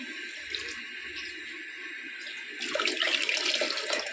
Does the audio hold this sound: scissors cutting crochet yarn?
no